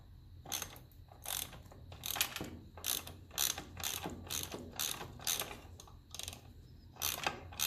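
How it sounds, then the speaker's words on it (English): A half-inch spanner ratchets a filter bolt loose on a 1954 Ferguson 20 TEF diesel tractor, giving repeated close clicking ratchet strokes in a steady rhythm of bursts, with no voices. "My 1/2 inch spanner. So I get this filter off."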